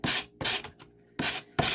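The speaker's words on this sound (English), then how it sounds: "Old block. Sanding block." An old wooden sanding block with worn paper rubs across wood in four quick, close rasping strokes with short pauses between them.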